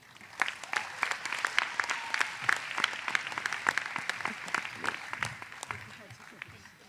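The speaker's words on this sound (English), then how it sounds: "Please join me again for another round of applause for these graduates" Scattered, moderately faint applause from a commencement audience for Special Education graduates at The College of New Jersey, individual claps distinct and uneven rather than a dense roar, continuing steadily throughout.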